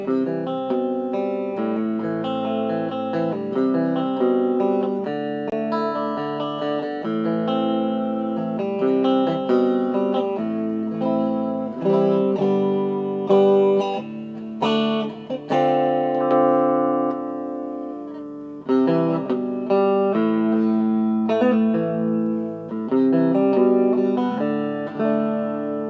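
Electric guitar played through a new 12-watt amplifier with two 10-inch speakers and reverb, miked up, ringing chords and melodic lines sustaining steadily with a washy tail, loud and continuous for the full stretch with no talking.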